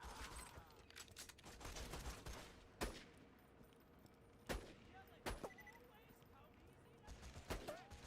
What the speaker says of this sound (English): Man, they are really accurate with those grenade throws.